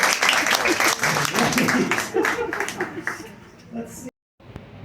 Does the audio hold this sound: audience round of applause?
yes